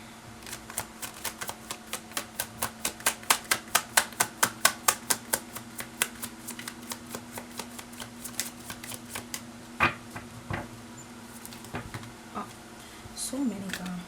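Tarot cards shuffled by hand in a quick, even run of crisp clicks that slows and thins out, then gives way to scattered taps and handling noise under a low steady hum.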